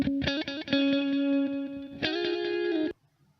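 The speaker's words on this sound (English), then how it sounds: "It should be just a decaying echo." A decaying echo delay effect built in MATLAB, applied to a short played tonal phrase whose repeated notes smear into trailing copies before cutting off into silence.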